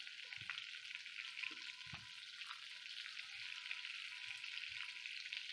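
Butter sizzles steadily in a hot frying pan during preparation of a Kashmiri shahi methi paneer, with a constant hiss and a few soft clinks and stirring knocks, fairly quiet and close, with no talking.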